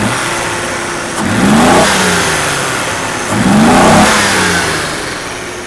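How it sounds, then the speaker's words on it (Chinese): A 1982 Mercedes W126 280SE engine, freshly repaired fuel distributor, revs up twice from a steady idle, each climb swelling loud and close before dropping back, with no talking. "大哥来做个简单的提速。"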